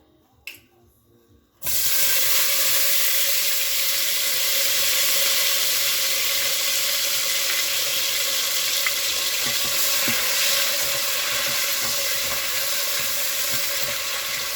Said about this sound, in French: Faire revenir un peu notre oignon avec notre ciboulette de tout à l'heure